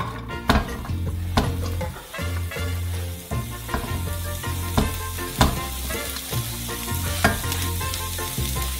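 Vegetables for shawarma fry in a pan on the stovetop, a loud continuous sizzle broken by repeated sharp clanks and scrapes of stirring utensils, with no voices.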